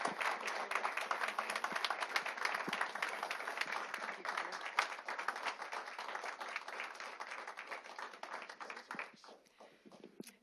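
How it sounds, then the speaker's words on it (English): Applause fills a city council chamber for the outgoing mayor, brisk steady clapping from a modest standing audience that thins and tapers off near the end. "join me in a huge round of applause for our 2025"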